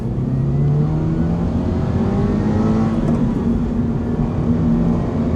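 Toyota GR86 sports car engine revving steadily, a loud, close, continuous drone with rising and falling pitch and no talking.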